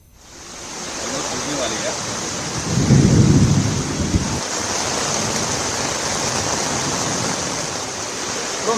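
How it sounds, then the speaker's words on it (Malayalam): Heavy rain pours down in Delhi as a loud, continuous hiss, while a deep roll of thunder rumbles for about a second midway through. "ഇന്നലെ രാത്രി മുതൽ നിലയ്ക്കാതെ പെയ്ത മഴയാണ് ഡൽഹിയെ വെള്ളത്തിൽ മുക്കിയത്"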